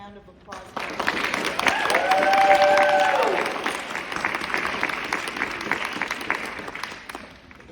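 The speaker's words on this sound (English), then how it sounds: "let's have another round of applause" An audience at a senior speech event applauds in a sustained wash of clapping that swells and then gradually thins out, with a voice briefly heard over it near the start.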